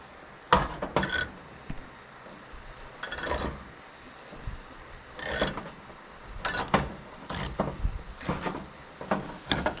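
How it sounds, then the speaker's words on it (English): A container of Sloppy Joe sauce is opened and handled beside a pan of browning hamburger meat, a series of sharp plastic clicks, scrapes and knocks coming in irregular bursts, close and fairly quiet. "we're going to open up our sauce and get it poured in."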